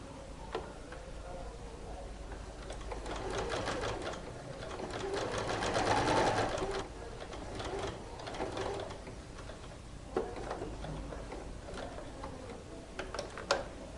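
Domestic sewing machine stitching the facing onto a dress neckline, a steady rapid mechanical whir of needle strokes that rises and falls in bursts with brief pauses, close and fairly loud, with no talking.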